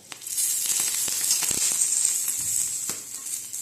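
Oil sizzles steadily in a pan while chilli kharda is made Kolhapur-style, a bright continuous hiss with a few soft clicks and spatters from the pan underneath.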